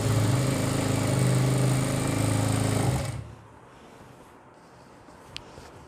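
A sewing machine stitches a belt salwar in a loud, dense mechanical whir that runs steadily for about three seconds, then stops abruptly and leaves a quiet room with one small tap near the end.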